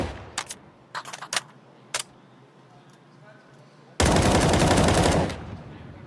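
Gunshots in a competitive esports shooter match, several sharp separate shots early on followed by a loud sustained burst of rapid fire lasting over a second, close and punchy.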